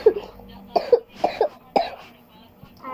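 A person coughs in a short run of bursts, close to the microphone, with brief pauses between them and no other talking.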